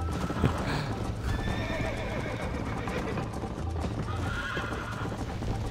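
Hooves clip-clop steadily in a quick rhythm while a horse lets out a brief whinny in Red Dead Redemption, close and fairly loud over background noise.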